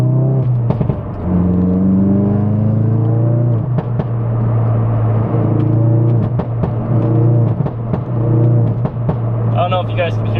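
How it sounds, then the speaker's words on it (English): A car fitted with an aftermarket exhaust, louder than stock, drones and climbs in pitch as it revs and accelerates through several gear changes, loud and close, with a voice talking over it. "my car has an aftermarket exhaust on it, so this one's definitely louder than stock"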